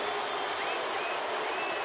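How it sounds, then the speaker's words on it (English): Red Sox fans clapping in the stands at a Red Sox–Phillies baseball game in Philadelphia, a steady wash of distant applause and crowd noise that runs continuously under the ballpark ambience. "they saw some of the Red Sox fans start to clap"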